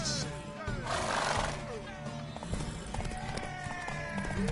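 A horse in The Witcher 3 gallops with quick clip-clop hoofbeats and lets out a neigh, set among game music and ambience with voices speaking over it.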